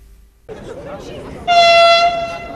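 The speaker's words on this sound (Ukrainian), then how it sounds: "Ось він той самий швидкісний поїзд з полученням Київ-Одеса" An Intercity Plus high-speed train on the Kyiv to Odesa route sounds a loud, near horn blast lasting about half a second, over the rumble and hiss of the moving train.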